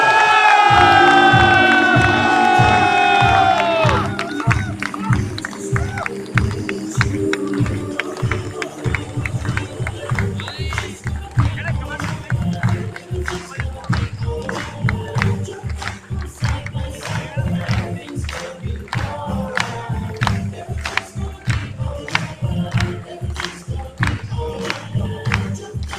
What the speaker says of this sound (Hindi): It's time to have a tremendous round of applause for none other than ebus.com Private Limited.